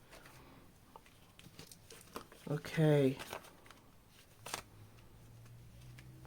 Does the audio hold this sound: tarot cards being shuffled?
yes